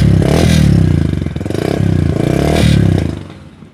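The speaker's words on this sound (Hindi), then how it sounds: "लाइट सा पुश करो सेल्फ स्टार्ट बटन को, बाइक हो जाती स्टार्ट" A 2021 Yamaha YBR125G motorcycle engine starting on its self-start button, a loud, close, rhythmic chugging that rises and falls in bursts before fading.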